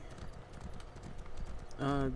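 Rhythmic horse hoofbeats in the video game Elder Scrolls Online clip-clop steadily at a trot, ending with a short tonal whinny-like sound, with a voice speaking briefly over them.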